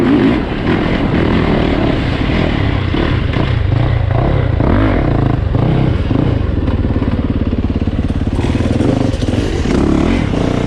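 A 2020 Yamaha YZ450FX dirt bike with a Rekluse clutch roars loudly and continuously while ridden, with steady engine drone and rattling clatter close by.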